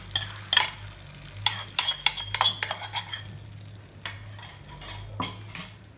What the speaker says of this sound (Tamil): ஜீரகம் தாளிச்சு கொட்டதை போட்டுறேன்